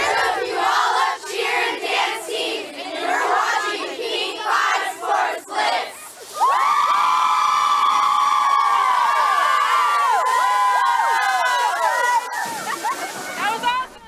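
High school cheer squad chants in unison under a cheering crowd, then a loud sustained group yell rises and holds for several seconds before easing off.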